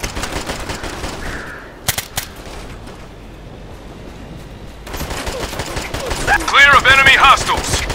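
Gunfire in Operation Flashpoint: Red River: sharp, close automatic bursts at the start, a near-silent gap with a couple of isolated cracks, then heavy firing resumes with shouted voices and radio chatter over it.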